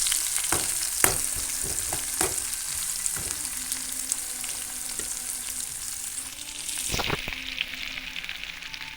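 Onion and ginger-garlic paste fry in a pan for a chicken liver dish, giving a steady hiss. A spoon scrapes and stirs in repeated strokes over the sizzle, and no one talks.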